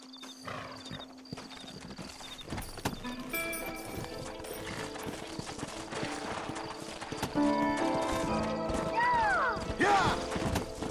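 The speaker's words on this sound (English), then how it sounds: "Horses are over here!" Horses in the Western game Red Dead Redemption trot with a rhythmic clip-clop of hooves on the ground, joined by a clear whinny near the end, with game music and effects faintly underneath.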